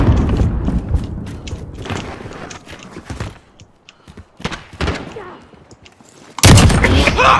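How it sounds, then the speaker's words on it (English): RPG fire in Call of Duty Modern Warfare, several heavy booming thumps with rumbling tails spaced across the clip, ending in a loud sustained blast. "Why does an RPG shoot so fast?"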